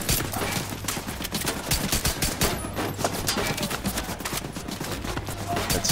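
Sustained rapid gunfire from a turret in The Division 2, a dense continuous stream of loud, close shots with barely a pause, heard alone without voices.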